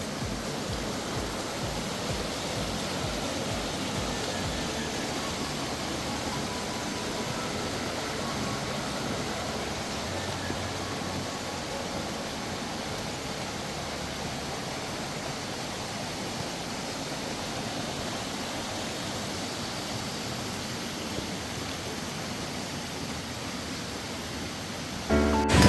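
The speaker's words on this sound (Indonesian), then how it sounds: "Ini sepanjang jalur awal kita menyusuri sungai." A clear river flows beside a mountain hiking trail on Gede Pangrango, a continuous broad rushing wash of water, steady and fairly loud, with no talking.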